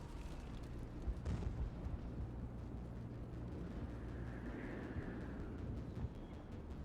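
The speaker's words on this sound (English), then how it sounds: "How is a woman supposed to think with guns going off all around?" Battle gunfire in the Mass Effect video game: a continuous rumbling barrage of booming blasts and bursts, muffled and somewhat distant, with a heavier swell of impacts early on and no speech.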